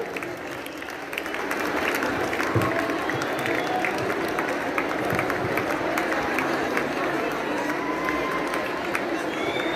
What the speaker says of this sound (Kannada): ತಮ್ಮ ಚಪ್ಪಾಳೆ ಅವರನ್ನ ಸ್ವಾಗತ ಕೋರಲಿ.